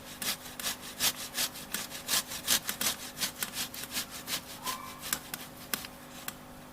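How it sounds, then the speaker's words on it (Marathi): A potato is grated by hand, a close, rhythmic rasping scrape repeated in quick even strokes, steady and moderately loud with no voices. "यासाठी आपण प्रथम बटाटा किसून घेणार आहोत"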